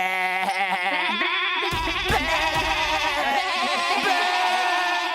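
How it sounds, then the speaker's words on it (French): Goats bleat in long, wavering cries that overlap one another, loud and close over a dense, steady tonal backdrop. "Vous êtes chelous, les chèvres."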